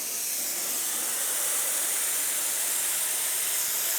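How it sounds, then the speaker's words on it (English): A Cold Jet dry ice blaster cleans an injection mold at a trade show, giving a steady, loud, unbroken hiss of blasting air. "So now we're going to get some dry ice into the game."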